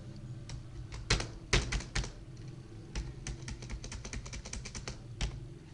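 A date being typed on a computer keyboard while building a shop or school invoice: close, crisp key taps in irregular bursts, a few louder strikes standing out, no talking.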